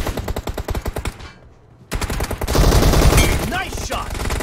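Rapid automatic gunfire in the BGMI (Battlegrounds Mobile India) mobile shooter, loud bursts of shots with a short pause and then a denser, continuous volley.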